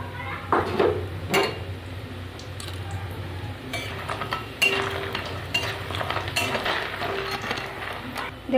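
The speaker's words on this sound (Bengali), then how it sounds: "এবার বড়িগুলো ভেজে নেব।" Bori lentil dumplings frying in oil in a kadai, a steady low sizzle under repeated scraping and clinking of a spatula against the pan.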